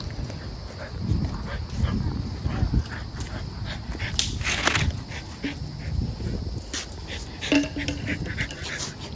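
Several dogs romp together at a dog park, panting, yipping and letting out short barks and whimpers in an ongoing scuffle, close by, with people's voices low in the background.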